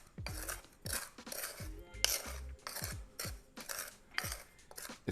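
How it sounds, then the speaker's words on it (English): A utensil stirs clumping sugar and heavy cream in an aluminum pan, making quiet, rhythmic scraping strokes that repeat about every half second, with faint metallic clinks. "we're just going to stir it"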